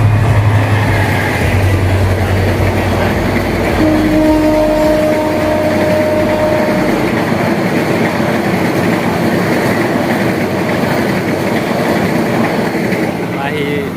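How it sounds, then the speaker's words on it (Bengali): A train rolls through Mirzapur railway station, a loud, steady rumble of wheels and carriages that holds almost unchanged from start to finish, close by and dominating everything else. "আরেকটি ট্রেন আসছে"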